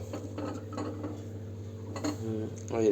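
Metal pot and pan clatter as a cooking pot is set onto a gas stove, a few clanks and scrapes over a steady low hum.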